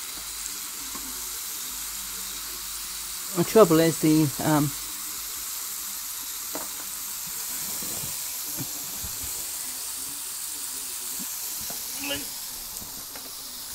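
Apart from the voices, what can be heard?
burger with pineapple slices sizzling and steaming while cooking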